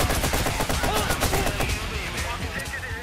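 Rapid, dense gunfire fills the Watch Dogs video game scene: a loud, continuous barrage of overlapping shots with no real pauses, and game voices mixed in.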